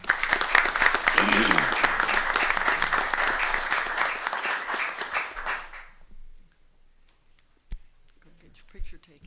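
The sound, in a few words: audience applause at a city council meeting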